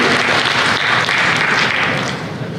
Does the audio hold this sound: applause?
yes